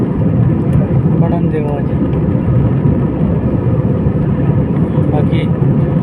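Jet airplane climbing away after takeoff near an airport in Saudi Arabia, a steady, broad engine roar that holds level throughout, with someone speaking over it.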